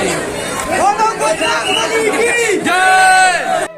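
Dense crowd chatter fills the busy Hanumangarhi temple in Ayodhya, many voices overlapping into a loud, close hubbub with occasional calls and raised shouts rising above the babble.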